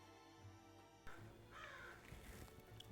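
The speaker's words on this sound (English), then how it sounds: "Loud crow." A crow cawing loudly, a few harsh caws standing out over a quiet background with low tonal hum in the first second.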